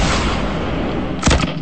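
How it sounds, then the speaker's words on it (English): Gunfire in the video game Fortnite rings out at long range, a loud rumbling burst followed by a couple of sharp cracks near the end, with no talk. "I'm shooting at him from the distance"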